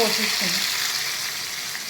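Tempering of mustard seeds, cumin, dried red chilli pieces and curry leaves fried in oil, poured into a Telugu onion pulusu, gives a loud, steady hiss of sizzling that fades slightly over two seconds, with no talking.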